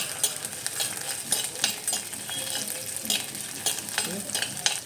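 Dried red chillies sizzle and crackle in hot oil in a pan while a spoon scrapes and stirs them in short, repeated strokes; close and steady, with no voices.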